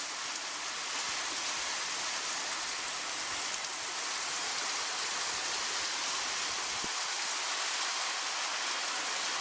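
Steady, dense rainfall hissing continuously on surfaces nearby, an even wash of drops with no pauses.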